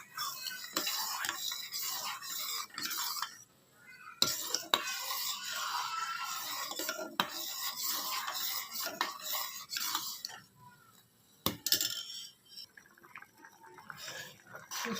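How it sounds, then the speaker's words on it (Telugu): A sugar mixture in a cooking pan is stirred nonstop, a spoon scraping and clinking against the pan in a steady rhythm, with occasional louder knocks. "పంచదార వేసిన తర్వాత కంటిన్యూస్గా ఇలా కలుపుకుంటూ ఉండాలండి, ఎందుకంటే అడుగొట్టేస్తుంది"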